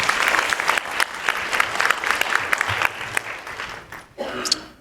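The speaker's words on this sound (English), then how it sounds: "let's give Marsha a round of applause for me." A seminar audience at a home-buying bootcamp claps steadily for a few seconds, the applause dipping briefly before picking back up.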